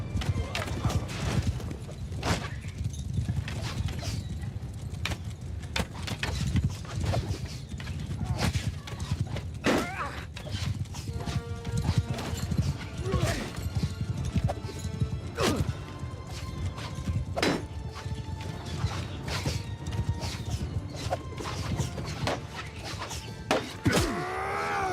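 Cavalry horses galloping in a barbarian Nord battle video game, a dense clatter of hooves with occasional whinnies and clashing impacts, loud and continuous under shouted commands.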